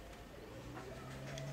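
Domestic pigeons coo softly around a loft, low, murmuring calls that are faint and fairly distant, with no talking.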